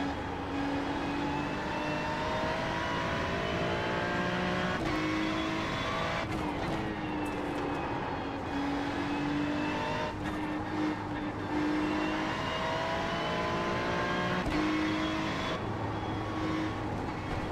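A race car engine at Mugello in the iRacing sim roars continuously, revving up and shifting through gears in repeated rising sweeps, loud and close throughout.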